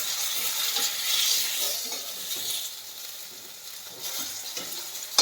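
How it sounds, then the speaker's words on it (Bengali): Fish and bitter gourd with potato fry in a pan with a continuous close sizzle and spitting crackle, swelling and easing slightly as the food is stirred, without speech. "আমি উচ্ছে আলু ভাজা বসিয়ে দেবো"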